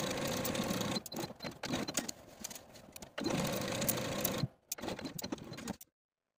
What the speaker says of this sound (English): Now I'm going to take it to my sewing machine and sew from the underarm seam